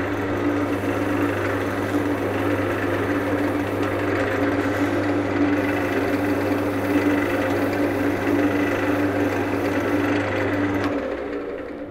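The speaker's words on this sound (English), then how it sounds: "I'm just going to use a bit of a clean kitchen towel and just buff this off with the lathe" A wood lathe spins steadily while a shellac finish is buffed with a clean kitchen towel, giving a constant whirring motor hum with faint rubbing over it, which stops abruptly near the end.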